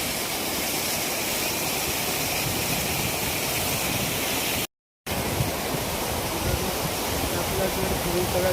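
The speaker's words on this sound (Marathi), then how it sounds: "आपला धबधबा कसा डेंजर आहे." A dangerous waterfall at Raigad fort roars as a steady, dense, broadband rush that fills the whole clip without letup, close and loud.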